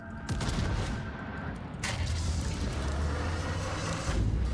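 Heavy naval gunfire booms in a World of Warships battle, a burst of loud shots followed by another thunderous blast and rolling rumble.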